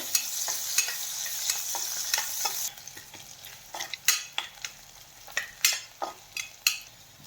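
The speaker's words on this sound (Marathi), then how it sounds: "इथे मी एक छोटा बारीक चिरलेला कांदा घेतलेला आहे, तो आपल्याला यामध्ये घालून छान परतून घ्यायचा आहे" Finely chopped onion fries and sizzles in hot oil with mustard seeds and cumin for a restaurant-style lasooni methi curry. A steady hiss is broken by irregular scraping stir strokes and clinks. The frying quietens midway, and sharp stirring clicks stand out afterward.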